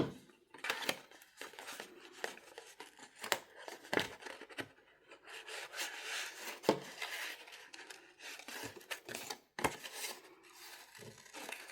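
Scissors snipping paper during fussy cutting of a craft piece, a string of quick close rubbing cuts and small snips with short pauses between them and no talking.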